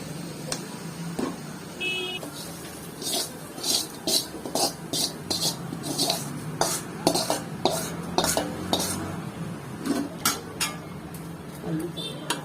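Tempering being tipped into ridge gourd and stirred in a pan, with a run of repeated metallic clinks and scrapes of a spoon against the pan, fairly close and steady throughout, with no talking.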